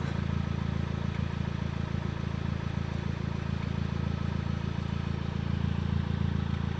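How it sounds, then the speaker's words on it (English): A steady, low exhaust burble from an idling VW Eos 2.0 TSI with its rear muffler removed, a constant rumble with a faint uneven throb and no talking. "As you can hear, there is a slight burble just on idle."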